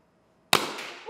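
CO2-powered Nerf finger launcher fires a single loud, sharp burst indoors, a sudden pop with a hissing gas release that trails off over half a second before a voice cuts in.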